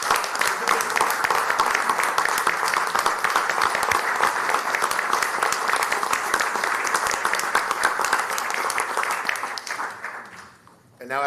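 Sustained audience applause for tenured teachers at a school district celebration, a dense, even wash of many hands clapping for about ten seconds before tapering off at the end.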